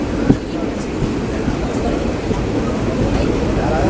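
The Mannargudi to Tirupati Pamani Express, running on a single line via Tiruvannamalai, gives a steady, loud, low rumble of wheels and carriages heard from on board, broken by one faint knock.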